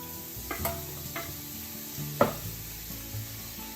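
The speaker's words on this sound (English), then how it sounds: "and shimeji into the same frying pan and saute them until it's well dipped." Onion and shimeji mushrooms sizzle steadily in a hot frying pan while utensils stir and scrape, with a few sharp clinks of a spatula against the metal.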